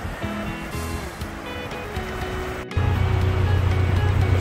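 Big ocean surf breaks along Ali'i Drive near Banyans in Kona, Hawaii, a broad wash of rushing water. A deeper, louder roar swells in partway through, with a faint mechanical hum underneath.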